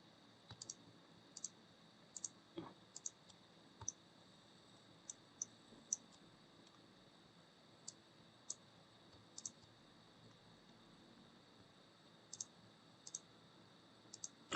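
A computer mouse clicks repeatedly while sketches are selected in CAD software, with sharp, close, isolated clicks arriving singly and in quick pairs at irregular intervals over a quiet background.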